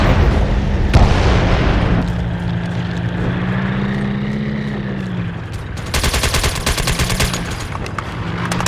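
Gunfire in a military online shooter, including sniper shots, with sharp cracks and a booming impact over a steady rumbling engine-like drone, then a dense burst of rapid fire near the end.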